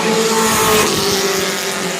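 Race trucks roaring around the oval at Langley Speedway, engines loud and close with rising and falling pitch and a brief tire squeal, steady and dense throughout.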